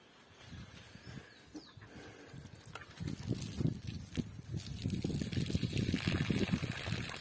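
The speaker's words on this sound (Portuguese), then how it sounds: "Aqui, já está saindo água ali." Water from a garden irrigation pump sprays into a vegetable garden, a steady rushing hiss that builds and grows louder partway through, with faint birds in the background.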